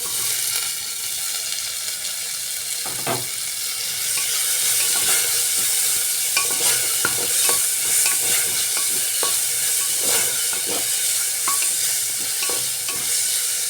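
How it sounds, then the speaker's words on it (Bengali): Chopped tomatoes frying in a pan with ginger and garlic while making soybean and rajma ghugni, a loud steady sizzle with periodic scraping and clinks of stirring, close up. "দিয়ে দিচ্ছে কেটে রাখা টমেটো"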